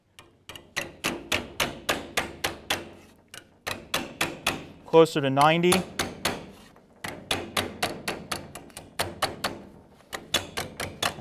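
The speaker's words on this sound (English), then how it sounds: "I'm going to jump around here with the hammer and dolly and just quick give it a couple little taps" Rapid, sharp metallic taps from a hammer and dolly on a sheet metal patch panel for a Model T Roadster door, close and crisp, with a brief pause where someone speaks before the tapping resumes.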